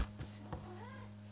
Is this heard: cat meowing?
yes